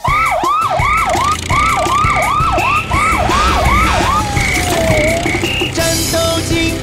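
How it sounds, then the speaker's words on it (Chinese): A cartoon police car siren wails loudly in fast repeated rising sweeps, then slides into a lower steady tone as bright beeping tones continue over a busy backing track. "战斗警报声响起，警车全速出击"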